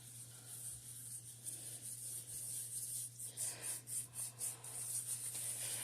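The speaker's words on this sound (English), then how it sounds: "So now I'm just going to rub it in." Hands rubbing seasoning into a raw chuck roast, soft repeated rubbing and squishing strokes in a steady rhythm, faint and close, over a low background hum.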